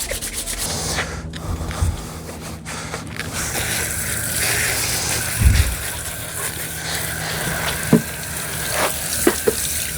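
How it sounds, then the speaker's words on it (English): A garden hose sprays water onto a toilet being rebuilt, giving a steady close rushing hiss with a few brief knocks and bumps. "I'm going to go ahead and just hose this thing down"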